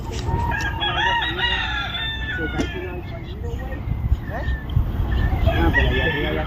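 A rooster crows and clucks close by, with drawn-out, wavering calls over steady background noise and a few sharp knocks, ending in more crowing.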